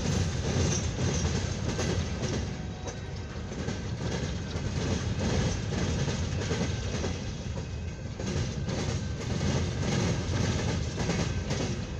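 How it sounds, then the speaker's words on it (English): Empty CSX coal hopper cars roll past on the main line at Fostoria, Ohio, a continuous loud rumble with repeating clickety-clack from the wheels and occasional squeals, with no voices. "got a southbound to an eastbound CSX coal hopper train here on the main"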